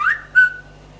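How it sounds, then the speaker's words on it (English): A phone text message notification plays a two-part whistle tone, a rising whistle then a short sliding second note, close and clear over a low hum with no talking. "Sorry about my phone, somebody's trying to"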